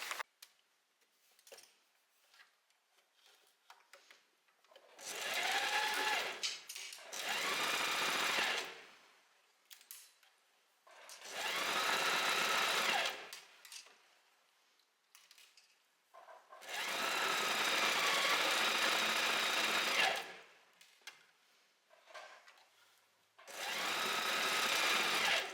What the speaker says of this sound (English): So I'm just going to start sewing here, then I'm going to sew all the way around